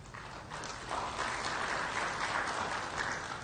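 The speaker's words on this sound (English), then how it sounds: "we could clap at the end of each one" An audience applauding at a workers' forum opening ceremony, steady clapping for a few seconds, heard from a moderate distance and fairly faint.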